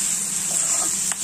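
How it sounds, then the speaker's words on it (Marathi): Vegetables being stirred and mixed in a hot frying pan for a Marathi chutney, a steady close sizzle with light scraping under a constant hiss, no talking. "हे छान मिक्स करायचं आपल्याला."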